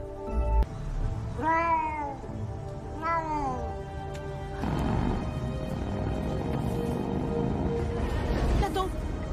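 A kitten meows twice in clear, rising-and-falling calls, then gives way to louder background noise with faint further mewing near the end.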